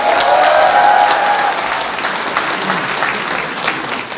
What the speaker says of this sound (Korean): 다시 한번 뜨거운 큰 박수 부탁드립니다.